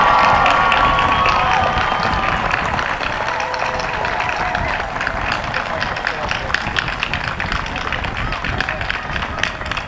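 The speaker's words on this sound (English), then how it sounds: "Please join me in applauding them." Sustained applause from a large commencement crowd honoring 2021 bachelor's graduates, dense steady clapping with scattered cheers and shouts, loudest at the start and holding throughout.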